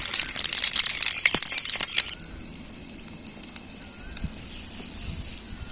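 Panch phoron five-spice seeds hitting hot oil in a village kitchen burst into loud, crackling sizzle for about two seconds, then settle into a quieter hiss with scattered pops and small clinks.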